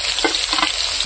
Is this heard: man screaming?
no